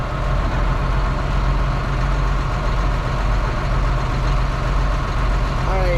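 A truck engine idling steadily at close range, a loud continuous rumble with even low throbbing and no breaks.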